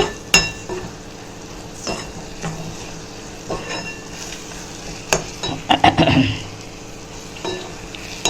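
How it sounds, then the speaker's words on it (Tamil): Green turkey berry (sundakkai) pickle is stirred in a pan, giving intermittent scraping and sharp clinks of the spoon against the metal, with a faint sizzle underneath and a busier burst of stirring midway. "சேர்த்து நல்லா கலந்து விட்டுக்கலாம்"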